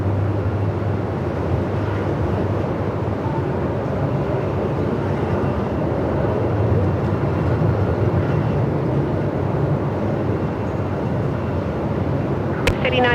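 A Jetstar airliner takes off from runway 34 at Melbourne Airport in strong winds: a steady, loud broadband engine roar with heavy rumble that holds evenly throughout, with no voices.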